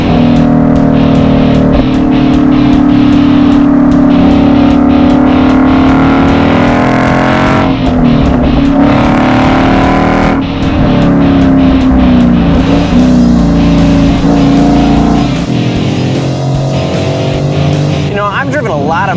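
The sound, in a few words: Ford Mustang engine accelerating during a test drive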